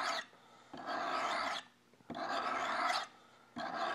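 Hand-filing a hook blade, three long, smooth, raspy strokes back and forth with short pauses between them, loud and close, in a steady pendulum-like rhythm.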